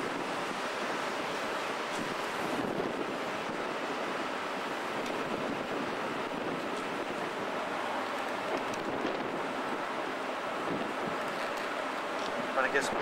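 Steady wind rushing across the sheltered back deck of a cruise ship in Alaska's Inside Passage, a broad continuous roar with the wash of water beneath it.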